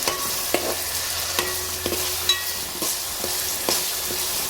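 Onion frying in a tempering of oil for fish curry, a steady close sizzle with repeated sharp clicks and scrapes of a ladle stirring the pan, no talk.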